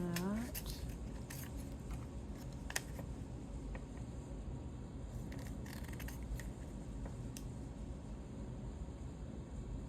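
Paper trimmed with scissors for a nature journal, a few quick sharp snips up close over a constant low droning background hum.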